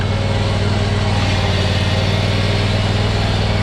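A zero turn lawnmower engine runs steadily and loudly at close range, a continuous even drone with a low rumble and no breaks.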